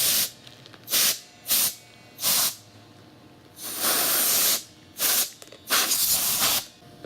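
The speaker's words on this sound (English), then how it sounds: "Compressed air, the perks of being at the office." Compressed air sprays onto a guitar neck in a string of short, sharp hissing blasts, about seven bursts with one longer blast in the middle, close and loud, with no talking.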